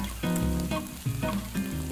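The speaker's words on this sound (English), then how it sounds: "you can hear it's a good temperature, and you want that nice low sizzle" Onions gently frying at low heat in a pan in a Provençal kitchen, giving a steady, close, soft crackling sizzle with small bursts of popping throughout.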